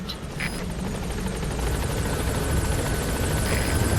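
The Pequod helicopter arriving at a landing zone in the video game Metal Gear Solid V: The Phantom Pain, its rotors giving a loud, steady, close thrum that runs unbroken throughout.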